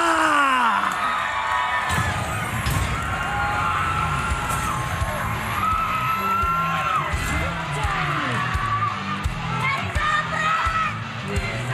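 A packed esports arena crowd at an MPL Philippines Season 10 playoff match between BLCK and BREN shouts and cheers continuously, loud and dense, while excited voices talk over the din throughout.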